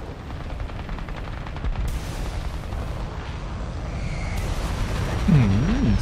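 Aircraft cannon fire from an Alpha Jet in War Thunder, a steady rattling stream of rapid shots that runs throughout at moderate loudness, with engine and ambient game noise underneath.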